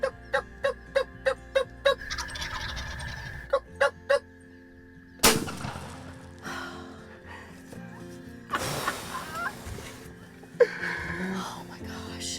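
Wild turkey gobbles ring out in a rapid series of sharp bursts early on, then more sporadic calls follow amid rustling, wind and hushed whispering from hunters nearby.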